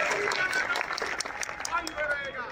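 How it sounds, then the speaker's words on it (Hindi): A crowd applauding at a BJP political rally in Najafgarh: scattered, uneven clapping mixed with loud shouting and raised voices, fairly close and busy, tapering slightly toward the end. "तो मोदी जी के लिए ताली हो जाए।"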